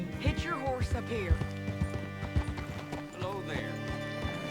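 Horse hooves clopping at a walk in the western video game Red Dead Redemption 2, close and uneven steps with a snort or whinny, under speech from game characters.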